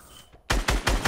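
Gunfire in a video game, quiet at first and then four loud, close shots fired in quick regular succession.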